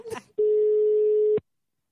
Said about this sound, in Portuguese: Eu vou ligar pra Orlandina